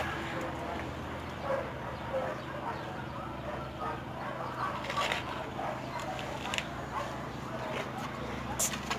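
Several dogs bark in an enclosure, sharp repeated yaps and barks scattered over a busy, noisy background, with someone speaking over them.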